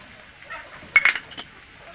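A spoon stirs cumin into a pot of bottle gourd and prawn curry, giving a few quick, close metallic clinks and scrapes against quiet background.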